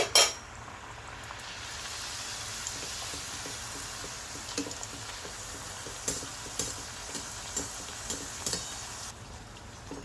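Rolled puri frying in hot oil in a kadai, a steady close sizzle with scattered clinks and taps of a metal utensil against the pan, no talking.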